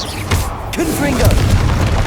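A Confringo explosive spell detonates in Hogwarts Legacy, a loud booming burst with rumbling low end, while a voice speaks over the blast.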